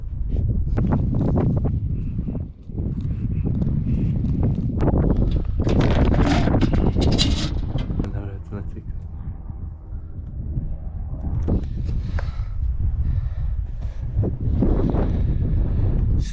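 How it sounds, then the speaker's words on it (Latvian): Strong gusts of wind buffet the microphone continuously at Vrangfoss on the Telemark Canal in Norway, roaring and rumbling with shifting intensity, and faint rustling can be made out underneath. "Stiprs vējš, redzēs, vai vispār varēs palidot."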